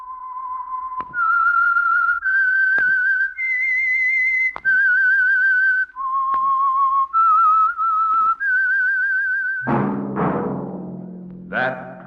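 A clear whistled tune of sustained, wavering notes rising and falling in a slow melody, followed by a brief swell of orchestral music, the theme of the radio program The Whistler.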